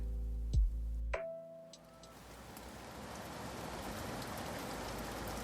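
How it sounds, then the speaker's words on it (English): Rain falls steadily over a city, a soft, even hiss of drops that swells in after a brief low thud and a few clicks, continuing faint and unbroken to the end. "The rain continues across the city in large ribbons of clear water."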